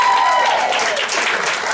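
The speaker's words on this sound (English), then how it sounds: "clapping for Diane" Audience applause at a stand-up comedy show, a steady wash of clapping that stays loud and even throughout, with a faint voice trailing through it early on.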